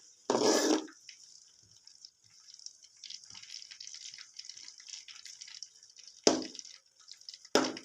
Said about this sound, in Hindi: तो इसके अंदर सबसे पहले कमर कस डालेंगे, इसको फ्राई करेंगे,